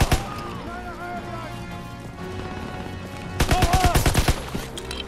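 Gunfire in the Call of Duty WW2 D-Day mission on PS4: a sharp opening shot, then scattered distant battle noise, then a rapid burst of loud automatic shots near the end.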